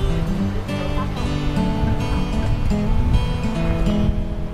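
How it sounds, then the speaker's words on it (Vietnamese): Water from the natural Bạch Lâm forest stream rushes loudly and steadily, a dense, continuous wash with a faint tonal hum underneath. "đây là suối Bạch Lâm, suối thiên nhiên"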